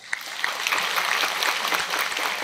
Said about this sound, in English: let's give a round of applause for all the disciples that helped put this book together